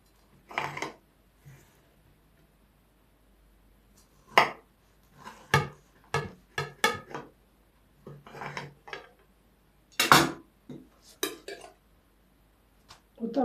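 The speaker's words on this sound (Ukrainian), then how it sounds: "Ріжу. Цей вафля хрустить поки що." A crunchy coconut wafer cake is cut, giving sharp, dry crackling bursts in short irregular clusters separated by quiet pauses, close and fairly clear.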